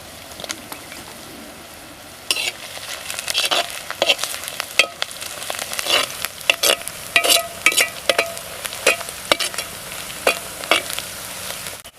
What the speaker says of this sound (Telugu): ఉల్లిపాయలు వేగేయండి